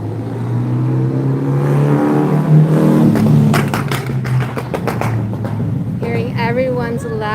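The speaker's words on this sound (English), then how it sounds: "Hearing everyone's loud cars and motorcycles." Loud cars and motorcycles pass along a busy mountain-town street in summer in Gatlinburg, Tennessee, engines rumbling and revving close by while people talk over the traffic.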